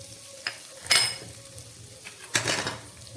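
Grated ginger dropped into hot ghee in a pan and stirred, with two bursts of sizzling and spoon scraping separated by quieter, close kitchen sounds.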